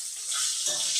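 A fish head fries in a pan with a bright, hissing sizzle that stays loud and close, swelling slightly partway through as the oil crackles.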